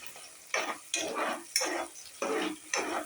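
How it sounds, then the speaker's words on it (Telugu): Onions, green chillies, curry leaves, bay leaf, cloves and cinnamon frying in oil for a meal-maker biryani, with five rhythmic sweeps of a spatula stirring the sizzling pan over a steady close hiss. "కరివేపాకు, బిర్యానీ ఆకు, లవంగా, చెక్క ఇవన్నీ బాగా ఫ్రై అవ్వనివ్వాలండి ఆయిల్లో."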